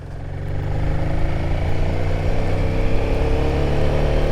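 Royal Enfield Himalayan 450 adventure motorcycle pulling away in second gear from about 2000 RPM, its engine note building steadily and loudly up close, a continuous drone with no voices.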